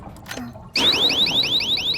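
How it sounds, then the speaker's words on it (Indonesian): An alarm in an animated show starts suddenly after a quiet moment and repeats loud, rapid rising electronic chirps in a steady pulsing pattern, with no voices. "ngedenger alarm Kaya, Bucie jelas langsung nyusul dong"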